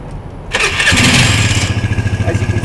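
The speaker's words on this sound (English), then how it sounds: "The bike starts easily, idles well, bike's ice cold, fires right up like that." A Vespa ET4 scooter, ridden cold, cranks briefly and catches about half a second in, then settles into a steady, pulsing idle close by with no voices.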